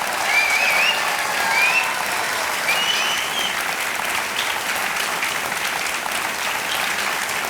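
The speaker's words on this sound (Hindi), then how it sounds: "जोरदार तालियां बज जाए इनके लिए" Studio audience of a TV quiz show clapping for a contestant, an even, sustained burst of applause at close range with faint cheering tones over it.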